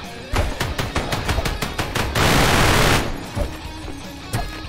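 Rapid gunfire in a mining survival roguelike video game: a fast string of sharp repeated shots, then a dense sustained roar of fire, then more scattered bursts, loud and continuous with no talking.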